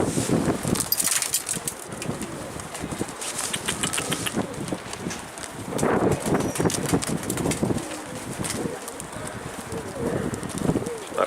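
A pigeon flaps and coos nearby, soft wingbeats and low cooing coming and going in irregular bursts against outdoor wind noise, with faint human voices in the background.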